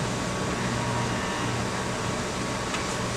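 A stepper motor, driven by a TICSTEP2 controller as motor number 1, runs toward a set position with a steady, close mechanical hum and faint tonal whine. The sound holds even for about three seconds, with no talking.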